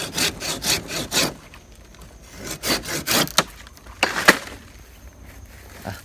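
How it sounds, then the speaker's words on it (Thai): A hand saw undercuts a large teak tree branch from below in short bursts of close, rasping strokes. Quick runs of three or four strokes are broken by brief pauses, with a few sharper scrapes near the end and no voices. "เอาเลื่อยด้านล่างก่อนนะครับ"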